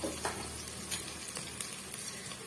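Masala with a chopped medium tomato sautéing in a pan for bottle gourd kootu, a steady sizzle with scattered stirring scrapes and taps, close and moderate in level, without talk.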